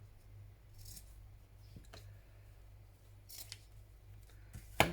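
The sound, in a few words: scissors trimming a piece of lace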